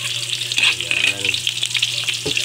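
Onion and garlic sauté in a hot pan, giving a bright, steady sizzle with the scrape and clatter of stirring through it, close up and without talk.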